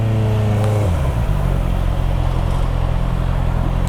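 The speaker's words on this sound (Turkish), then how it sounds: "Motorda egzoz yok yani daha doğrusu orijinal stok egzoz var" A Honda CBR 650R motorcycle with its stock exhaust rides through city traffic. A steady, close engine drone drops in pitch once early on, as if shifting gear, then holds even.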